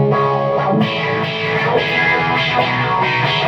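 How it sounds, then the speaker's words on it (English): Electric guitar with overdrive and an envelope filter through a Peavey Vypyr X2 amp, a continuous dense stream of sustained chords with a sweeping, quacking tone, played close and steady with no pauses. "Oh, the envelope filter."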